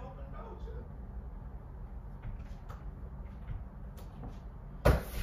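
A locked door being opened: a sharp click and thud near the end, following several seconds of low background murmur and muffled voices.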